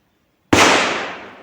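A single sharp 9mm pistol shot firing a truncated cone bullet at a shooting range, loud and close, with a ringing decay after the crack and no voices.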